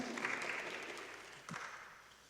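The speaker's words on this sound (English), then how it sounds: "I don't often get applause." Applause from an audience at a community forum on medical debt, a steady patter of clapping that gradually tapers off, with a brief thump near the end.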